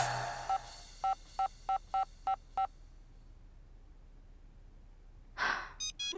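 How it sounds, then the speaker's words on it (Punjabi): A phone rings as five short, evenly spaced electronic beeps, fairly loud and close. After a pause, a breathy rustle and a few more quick tones follow. "ਉਹ ਫੋਨ ਆ ਗਿਆ ਇੱਕ ਹੋਰ।"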